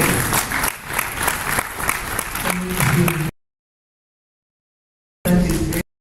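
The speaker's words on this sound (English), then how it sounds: "Can we give her a better round of applause?" Crowd applause with some cheering at a conference session, loud and steady for a few seconds, then a sudden silence before another brief burst, with voices mixed in near the end.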